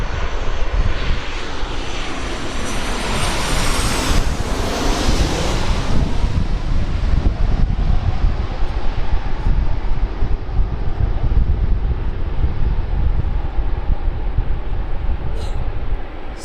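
A jet airliner touching down on runway 16 right at Sydney Airport, a loud steady roar of engine noise and wind rush that swells and washes past, with no talking.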